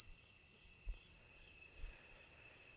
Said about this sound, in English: Cicada or whatever it is just started going crazy